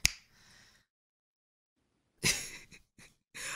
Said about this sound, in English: I'll snap my fingers. It'll be unstuck.